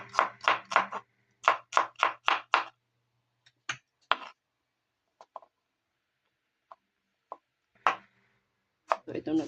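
Onions for dinakdakan are chopped on a board with a quick run of sharp, close knife strikes, then sparser scattered chops and taps separated by near silence.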